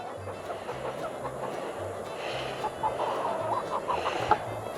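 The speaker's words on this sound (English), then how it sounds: "we got a rooster here" On a small rooster farm, several chickens and a rooster cluck softly and repeatedly nearby over a low background hum, with a few sharper calls toward the end.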